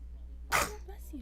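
One quick, loud sneeze cuts through a steady low hum during a live mixed martial arts commentary stream, fading into faint voice sounds right after.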